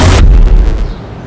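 A single loud gunshot from a policeman's gun, a sharp close blast in the first instant followed by a short decaying echo, no talking.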